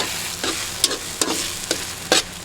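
Beaten eggs with black pepper stirred in a pan, with a steady soft sizzle under several sharp scraping strokes of the utensil in an uneven rhythm.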